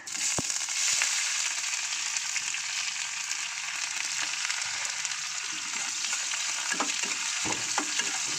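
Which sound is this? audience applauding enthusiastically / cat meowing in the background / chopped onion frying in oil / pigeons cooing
chopped onion frying in oil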